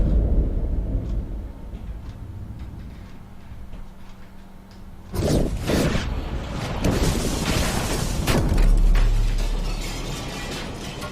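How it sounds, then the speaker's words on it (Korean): A war-scene film soundtrack with bombs exploding: a quiet stretch gives way to sudden loud booms and crashing bursts in the second half, several impacts in quick succession. "폭탄 터지잖아요"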